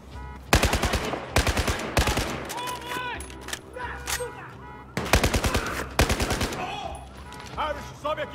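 Machine-gun fire in the Battlefield 4 campaign: sharp rapid bursts of automatic shots in short volleys, loud and close, with shouting voices and battle effects between the bursts.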